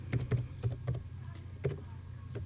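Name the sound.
typing on a computer keyboard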